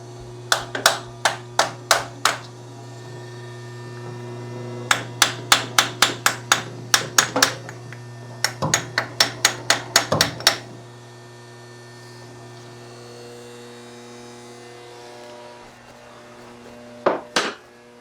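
Light, sharp hammer taps on a Jeep CJ2A starter in quick bursts of several strikes, separated by pauses, over a steady low electrical hum.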